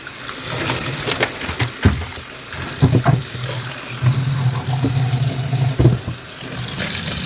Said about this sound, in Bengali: এই সবগুলো আগে জলে ডুবিয়ে রাখি।